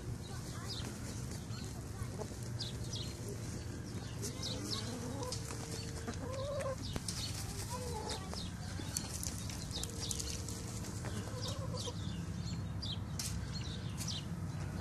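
Chickens cluck and murmur steadily through a backyard dust bath on a warm winter day, soft close calls over constant outdoor background noise, with occasional bird chirps and brief human talk.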